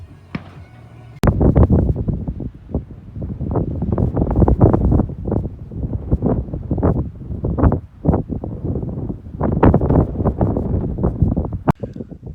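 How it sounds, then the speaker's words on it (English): Wind in the Colorado mountains buffets the microphone in loud, irregular gusts and rumbles, rising and falling in repeated surges with short lulls between them. "There's still a little bit of breeze, but I'm down behind this bluff right here, and it's blocking most of the wind."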